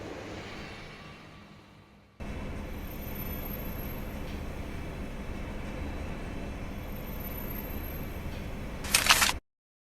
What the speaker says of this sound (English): The train. Just in time.